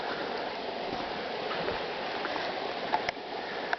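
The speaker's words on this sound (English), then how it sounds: "we've been following the creek the whole time." A creek flows steadily along a grassy trail, giving a soft, continuous rushing wash of water with faint gurgles, fairly quiet and heard alone.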